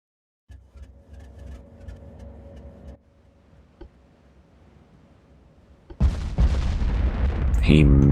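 Battleship guns fire in Ultimate Admiral: Dreadnoughts during a fight with Italian ships, with a low rumbling salvo, a quieter stretch with a faint thud, then a heavy, loud blast of gunfire that rolls on to the end.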